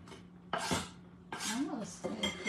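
A knife cutting a medium yellow onion on a board in a home kitchen, three bursts of crisp slicing and scraping with short pauses between them, close and fairly loud.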